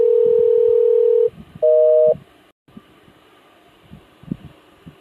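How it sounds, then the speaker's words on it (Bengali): Outgoing Telegram call tone, steady electronic beeps repeating twice before cutting off, followed by quiet room noise with faint knocks. "তো আমরা কিন্তু তাকে ফোন দিয়ে দিলাম"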